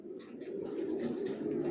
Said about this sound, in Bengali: আমার বেডিং লফটে কবুতরগুলো রাখা হয়, যেগুলো বিক্রি করার জন্য রেডি করি